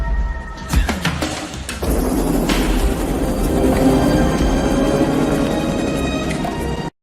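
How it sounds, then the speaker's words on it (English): A real train in the 1993 film The Fugitive makes a loud, sustained rumbling roar with metallic screeching tones after a sharp impact near the start, ending abruptly. "That's a real train, bro."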